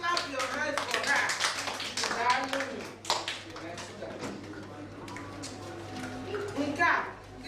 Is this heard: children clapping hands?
yes